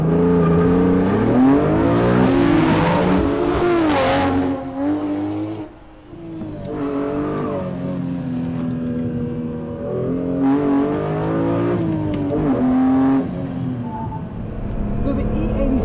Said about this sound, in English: that soundtrack of the S54 is just beautiful